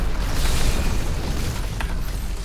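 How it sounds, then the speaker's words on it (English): Corpse explosions in the video game Diablo 3 go off as a rumbling series of booms and bursts, loud and low, with a sharper pop near the end. "Let's see how this works with the corpse explosions first."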